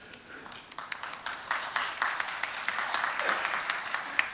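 An audience at a December civic project meeting claps as the mayor is welcomed to speak, a moderately sized crowd whose clapping swells and holds steady, with distinct individual claps popping above the wash.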